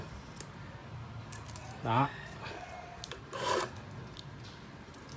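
A decal being cut along the edge of a guppy show tank, with a few short rasping cuts close by between quiet pauses as someone speaks briefly.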